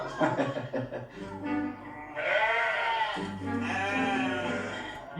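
Sheep bleat in long, wavering cries in Tunisia, several overlapping calls with a steady low background and some faint voices.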